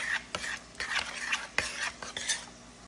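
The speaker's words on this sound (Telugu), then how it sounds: "కమ్మటి పెరుగుతో ఈ కూట్ మిక్స్ చేయాలన్నమాట." A spoon stirs curd into bottle gourd kootu in a pot, making a series of soft scraping strokes at a rhythmic pace with brief sharp clinks against the vessel, quiet and close.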